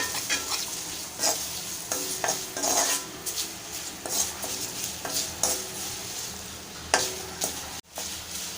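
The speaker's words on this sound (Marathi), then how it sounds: "आपली छान अशी फोडणी झालेली आहे।" A spice tempering (phodni) with turmeric for thin poha chivda, stirred in sizzling hot oil: a constant crackling fry with repeated spoon scrapes and clinks against the pan, close and without talk.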